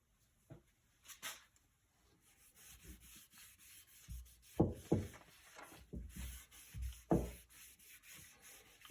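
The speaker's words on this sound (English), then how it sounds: "Just giving it a wipe down with the rubbing alcohol." Quiet intermittent rubbing and wiping of a cloth with rubbing alcohol on a wooden rifle stock, short strokes in bursts with pauses between them, close by.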